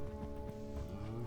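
A horse ridden in Minecraft with the Middle Earth mod clip-clops in a quick steady rhythm of hoofbeats, close and continuous across the short stretch.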